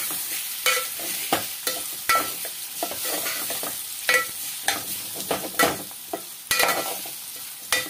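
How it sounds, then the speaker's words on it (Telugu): Mushroom curry stirred in a pan over a sizzling base, with about a dozen spoon scrapes and knocks in an uneven rhythm, close and clear, with no one talking. "ఒక్కసారి కలుపుకుందాము మాడిపోకుండా."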